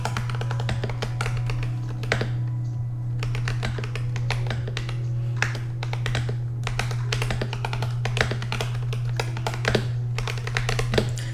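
Fingers type quickly on a new clicky computer keyboard, close and crisp, a continuous run of sharp clacks and taps with brief pauses, set over a steady low hum.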